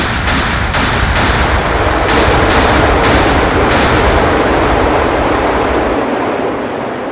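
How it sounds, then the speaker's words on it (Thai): Shells from a warship's guns burst over the ocean during the Falklands War: a loud rapid series of sharp blasts over a constant roar, thinning out after a few seconds. "สียงระเบิดจากกระสุนปืนใหญ่ประจำเรือซึ่งเงียบหายไปเป็นปิดทิ้งเกือบชั่วโมง ก็ดังสะเทือนเดินลั่น ตัวท้องมหาสมุทรอีกครั้ง"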